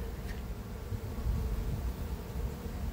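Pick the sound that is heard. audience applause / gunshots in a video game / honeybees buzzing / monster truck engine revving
honeybees buzzing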